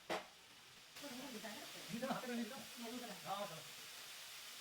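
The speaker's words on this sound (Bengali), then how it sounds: "মশলাটা আমি ভালো করে কষিয়ে নিচ্ছি।" A paste of coriander, cumin, chili and turmeric mixed with water is fried and stirred in a pan for a pointed gourd and coconut dish, giving a low steady hiss beneath a person talking.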